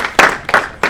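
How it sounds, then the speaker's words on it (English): A networking group audience clapping for themselves, three quick sharp claps close by, brief and loud, with no voices. "Round of applause for yourself for making it out today."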